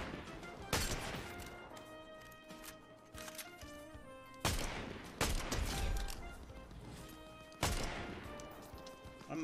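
Gunfire from a disliked weapon in Fortnite, with three sharp, loud shots spaced a few seconds apart over a busy game soundscape.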